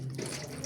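Water runs steadily from a tap as someone washes their hands, a close, continuous splashing stream.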